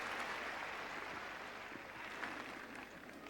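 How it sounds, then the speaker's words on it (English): Faint, distant applause from the crowd at the 1997 French Open women's final, steady and sustained after Majoli's put-away. "so well done by Majoli and the crowd giving her tremendous applause"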